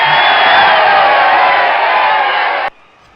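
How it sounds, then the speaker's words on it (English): A crowd cheers and roars loudly and continuously at a game, then the noise cuts off abruptly near the end. "So, crowd's absolutely delighted on that one."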